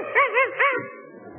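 A small dog gives a brief run of high, wavering whimpers and yips, close and alone, trailing off into a soft whine.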